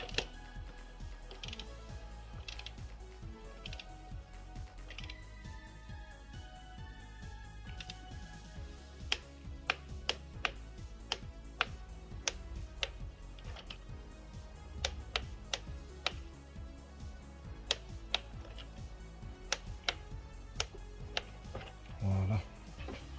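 A torque wrench set to 28 Nm tightens spark plugs on an Audi S3 8V 2.0 TSI EA888, giving rapid ratcheting clicks in quick bursts, close and fairly faint, with someone talking throughout.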